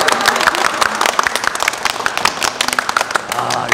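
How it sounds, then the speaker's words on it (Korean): Audience applause fills a cinema gathering, with dense clapping from a crowd of about a dozen people continuing steadily throughout, mixed with some cheering voices. "박수 한번 주세요."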